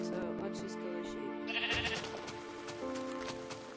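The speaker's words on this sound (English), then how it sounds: "Alright, so let's just kill the sheep." A sheep bleats in the survival video game FML, one clear nasal bleat mid-clip over a steady droning game music bed.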